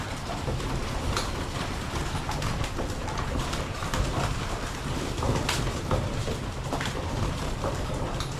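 Hungry pigeons crowd in at feeding time, their cooing and fluttering forming a dense, unbroken flock noise close by, with no talk.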